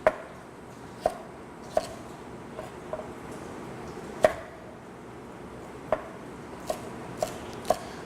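A knife chops celery on a cutting board in sharp, distinct knocks, about a dozen spaced unevenly at first and then coming a little quicker, close and clear over a quiet room.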